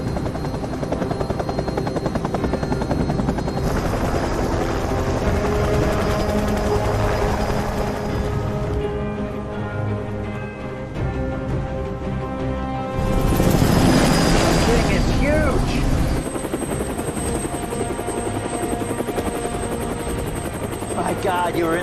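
A helicopter lifts off in an action movie scene, a loud steady rotor thump and turbine whine throughout that swells midway, with no voices over it.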